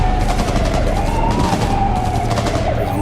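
Cyberpunk 2077 gunfight with continuous loud shooting blended into a wailing police siren, dense and close throughout with no pauses.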